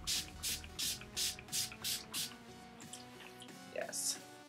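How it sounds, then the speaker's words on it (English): Makeup setting spray misted onto a face in several quick, evenly spaced bursts, a short soft hiss each time, close and fairly quiet, with a last spray after a pause. "Then you just want to get some setting spray and just,"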